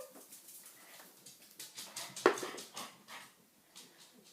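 Dogs barking and whimpering indoors as someone arrives home, a series of short, moderately loud yips and barks scattered across a few seconds with one sharper bark near the middle.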